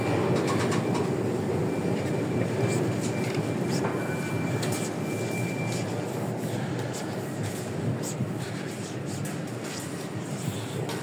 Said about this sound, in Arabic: محطة المترو دي متروق عليها جامد اوي